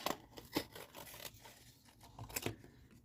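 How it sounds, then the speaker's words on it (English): Scissors snip around a paper plate to cut off its lip, giving a few faint, quiet crisp cuts and rustles at irregular intervals. "need a pair of scissors to cut the plate"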